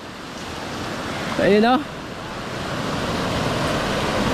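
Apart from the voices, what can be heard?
sea waves on the shore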